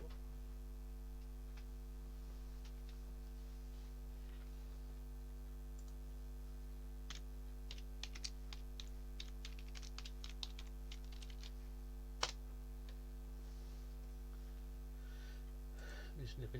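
Someone types on a computer keyboard over a steady electrical hum, with sparse clicks early on and then a denser burst of keystrokes near the middle, all fairly faint.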